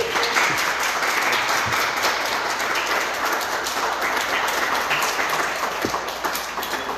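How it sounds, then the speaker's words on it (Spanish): An audience at a cultural conference gives a speaker a sustained round of dense applause. The clapping is loud, even and continuous for about seven seconds, fading slightly near the end. "Un fuerte aplauso para la conferencista, por favor"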